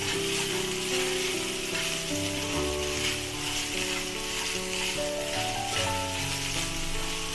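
Cooked rice stir-fried in a hot pan for curd jeera rice, a constant dense sizzle with scraping stirs running throughout, close and loud without any voices.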